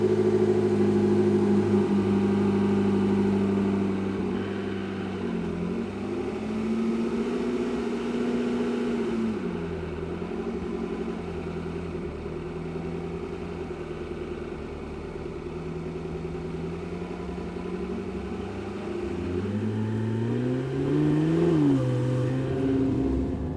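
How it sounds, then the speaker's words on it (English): A Porsche 918 Spyder hypercar engine idles and then pulls away, a steady low drone with slow rises and falls in pitch as it revs and drives, heard from inside, fairly loud and continuous without talk. "I am driving the 918 Spyder."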